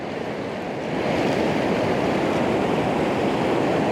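Sea waves wash close by on the Northumberland coast, a dense, steady roar of surf and moving water that builds slightly after the first second, with wind-like noise mixed in.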